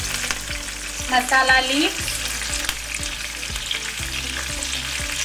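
Tadka spices sautéing in a pan, a steady sizzle with repeated light scraping strokes of the spoon, close and continuous, while a short spoken phrase passes over it.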